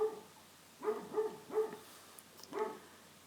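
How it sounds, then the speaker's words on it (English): Several dogs barking indoors at someone coming into the house, sharp barks in uneven bursts with pauses between, fairly close and moderately loud with no talking. "If you can hear the dogs, I'm really sorry. They're barking at somebody that just came in the house."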